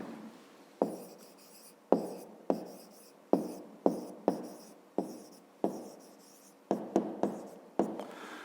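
Quick scratchy strokes of pen on paper while working a math exercise, about a dozen short bursts in a steady, close rhythm with faint pauses between.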